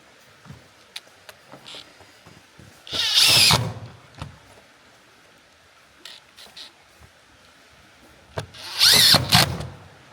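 A power drill drives the provided screws into the roof of an 8-foot panoramic barrel sauna near the chimney kit, in two loud whirring bursts several seconds apart, with scattered knocks and handling noises between them.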